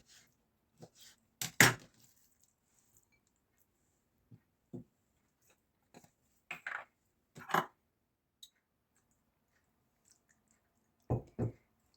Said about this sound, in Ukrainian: я поріжу на невеликі шматочки куряче філе